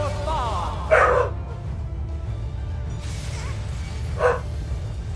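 A dog familiar named Oscar barks in Final Fantasy XIV, two short yapping barks about three seconds apart, sitting over a steady low game ambience and music bed.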